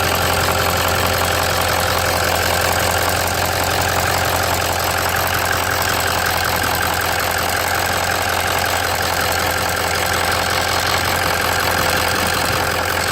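A Ford Excursion diesel engine idles steadily and loudly with a constant low hum and a faint rhythmic knock, running unbroken throughout with no talking.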